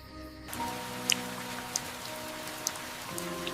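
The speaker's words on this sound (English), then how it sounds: "Light rain arrives, softening the earth and darkening the leaf litter around her." Light rain falling on leaf litter, a soft steady patter with a few sharper drops standing out, close and continuous.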